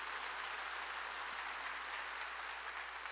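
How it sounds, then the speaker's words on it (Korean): A church congregation claps during a Sunday worship service, a soft, even, continuous patter of many hands heard from a distance, with no voices over it. "박수치라고요."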